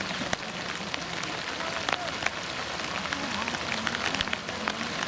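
Rain falls steadily in a Bangladeshi village, a dense even hiss with occasional sharper drops hitting a surface nearby.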